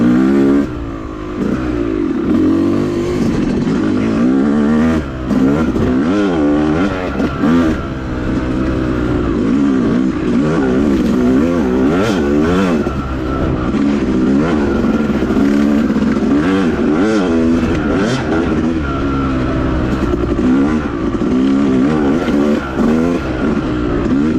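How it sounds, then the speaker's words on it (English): Dirt bike engine on a groomed OHV trail at Manchester, revving hard and surging up and down as the rear wheel leaves the tops of whoops; loud, close and continuous with repeated rising wails. "Every time you hear that high rev, that's the bike rear end coming off the top of a whoop-de-doo."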